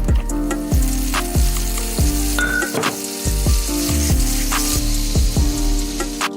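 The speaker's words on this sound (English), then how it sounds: "we first heat up a butter and a little bit of oil on this pan" Butter and a little oil heat in a pan for a Punjabi tadka, sizzling and crackling steadily up close, with sharp repeated pops and utensil knocks over a background of music.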